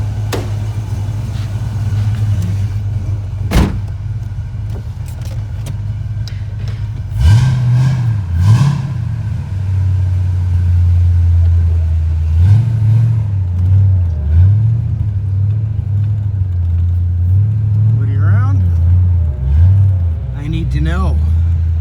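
A 1994 Ford Mustang GT 5.0 V8 running through a Flowmaster 10 muffler, a lumpy low rumble that rises in a couple of revs before settling back, recorded close with people talking over it.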